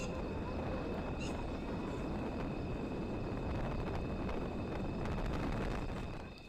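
Steady rushing wind roars across the microphone, a constant broadband buffeting with faint rumble, continuing unbroken throughout.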